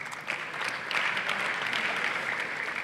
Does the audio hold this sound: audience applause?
yes